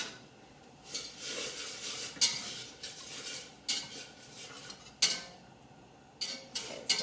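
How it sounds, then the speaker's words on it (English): A utensil stirring a pot on the stove while cooking chicken with creamy spinach sauce, with a series of close, sharp metallic clinks and scrapes at irregular intervals between quieter stirring. "Give that a stir."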